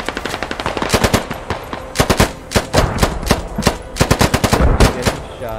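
Rapid bursts of automatic machine gun fire from the military shooter game Squad crack out repeatedly, loud and close, with short pauses between volleys and dense strings of shots toward the end.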